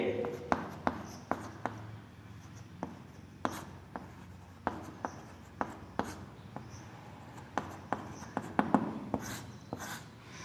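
A pen writing out a geometry proof on paper, a close run of quick scratches and taps under someone speaking Hindi.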